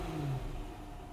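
A 5-litre V8 engine in a van gives a brief, muffled rev, rising then settling to a lower steady drone, fairly close and moderately loud.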